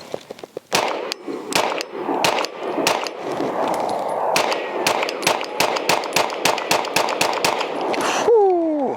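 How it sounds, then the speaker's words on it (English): A ZEV OZ9 Hypercomp pistol fitted with a weapon light fires a quick string of about twenty sharp, close shots at an irregular rapid pace, ending with a ringing metallic tone. "I'm just gonna shoot 5 to 10 rounds"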